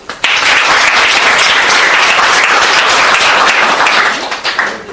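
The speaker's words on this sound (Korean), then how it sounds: "동의하시는 분만 박수 치세요." A crowd at a Korean public talk bursts into loud, dense applause that holds steady for several seconds and then begins to fade, with no voices over it.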